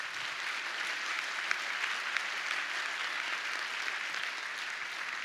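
A crowd at a Season of Hope staff panel event for Mel Trotter Ministries breaks into steady, dense applause, an even roar of many hands clapping that holds at constant loudness throughout.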